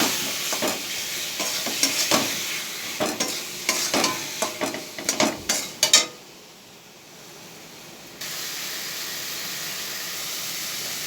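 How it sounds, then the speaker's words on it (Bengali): Onion, ginger and garlic paste being stirred and fried for an egg omelette curry, with a steady sizzle and repeated scraping stirs for about six seconds, then a quieter hiss of frying alone. "পেঁয়াজ আদা রসুনের পেস্টটা দিয়ে দিলাম ভালো করে নাড়ানাড়ি করে"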